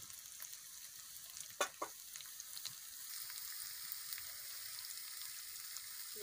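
Ground spices hitting hot oil after fried nut paste for chicken korma, giving a steady soft sizzle with a couple of sharp crackles and stirring scrapes early on, fairly faint and with no talking.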